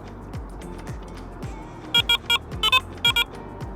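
A Wolf Q2 carp fishing bite alarm set to its loudest volume sounds a run of sharp, loud electronic beeps in quick bursts, over a low background hum.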